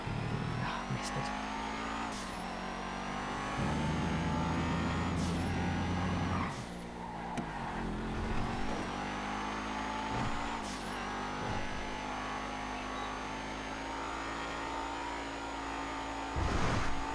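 Race cars speeding through a GTA V FiveM street race, including a Blister compact car, with steady loud engine drone, gear-change surges and occasional bursts of revving and tire noise throughout, no talking.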